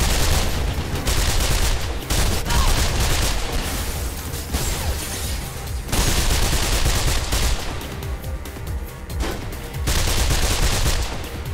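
Sustained automatic gunfire from the video game Mirror's Edge, loud and dense rapid bursts with a few brief pauses, continuous across the whole stretch.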